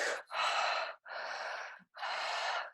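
Three long, deep mouth breaths in a guided breathwork session, each a loud, airy rush of roughly a second, separated by brief pauses, close to the microphone with no talk.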